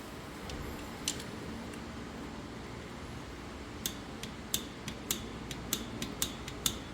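A torque wrench clicks while tightening the oil drain bolt on a 2017 BMW R1200GS motorcycle: a few scattered sharp clicks, then a quicker run of crisp, close clicks over a faint steady background.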